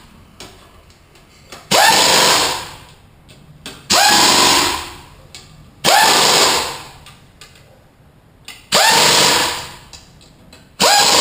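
An air impact gun fires in four short, loud bursts at even intervals while tightening 4L60E transmission bolts in a star pattern, each burst whirring up sharply and then tapering off, with quiet gaps between.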